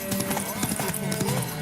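Hooves pound in a fast, steady gallop during a horse race in the video game The Witcher 3, close and continuous, with voices faintly under the running beat.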